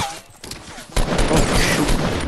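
Gunfire in Fortnite Battle Royale: a short quiet stretch gives way to a loud, dense burst of rapid shots that carries on steadily to the end.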